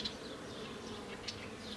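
Honeybees hum around an opened hive during an inspection, a steady near buzz with brief louder whines as single bees pass close.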